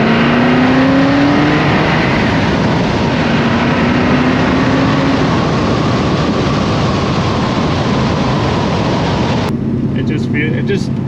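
A 1971 XW Ford GT Falcon drives along a private road at high speed, its engine producing a loud, sustained drone and a steady rush of road and wind noise throughout.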